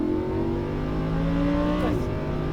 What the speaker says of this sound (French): Et on accélère de plus en plus.